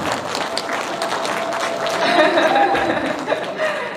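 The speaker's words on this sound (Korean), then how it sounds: "여러분 큰 박수를 부탁드리겠습니다." Audience applause after a lively Korean traditional music and dance performance with taepyeongso, steady clapping from a crowd with some chuckles mixed in, swelling slightly midway.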